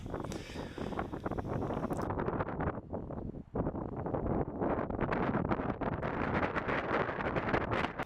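Strong wind buffeting the microphone on the exposed Moonah Links golf course in Melbourne, a steady close roar with gusty surges throughout and a brief lull in the middle.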